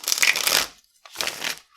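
Tarot cards are shuffled in two quick, close riffling bursts, each a crisp papery flutter lasting under a second, with a short silence between them.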